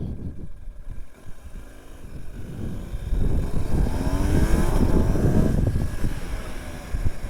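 A BMW R 1250 GS Low motorcycle slows and pulls in, its boxer engine rumbling close and steady, rising briefly before settling, with wind noise over the rider's microphone and no talking.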